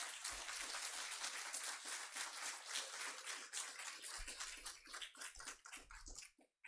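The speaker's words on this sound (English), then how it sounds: "Can we do one more round of applause for Gordon?" Dense crowd applause at a live anniversary celebration for a literary magazine, a steady wash of many hands clapping throughout, with a few louder bursts and low thumps near the end.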